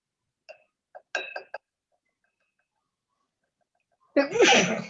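A single sharp sneeze bursts out near the end, loud and close, after a few short quiet vocal sounds and a stretch of silence.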